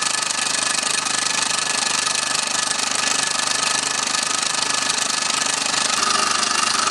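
A Mamod Minor 2 toy steam engine with a brass flywheel, covered in black paint when acquired, runs steadily with a dense, continuous rapid chuffing and mechanical rattle, loud and close throughout.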